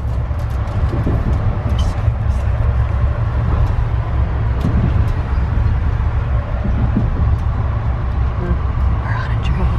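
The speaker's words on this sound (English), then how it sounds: "We're on a train to Wisconsin." Inside a moving passenger train bound for Wisconsin, a steady low rumble and rolling drone with faint rattles and squeaks, continuous and close, with quiet voices murmuring underneath.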